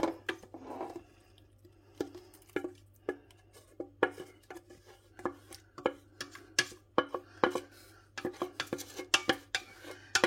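Onions are scraped and spooned out of a pan into a slow cooker while cooking a Flemish carbonnade. A close, quiet run of irregular metallic clinks and scrapes picks up pace toward the end, with no talking.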